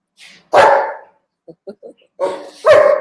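A dog lets out two loud, close barks separated by a few soft yips or whimpers, then a final sharp bark, heard alone without talk.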